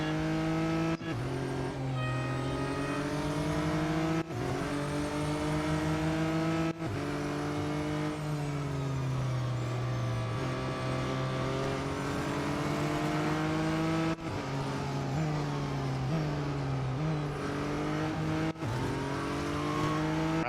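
A McLaren race car in Real Racing 3 screams at high speed, its loud engine note rising through the gears and dipping sharply at repeated shifts and braking, heard alone and close.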